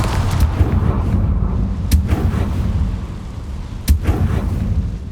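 Confringo fire spell explosions in Hogwarts Legacy, two sharp blasts about two seconds apart standing out over a low, continuous rumbling background.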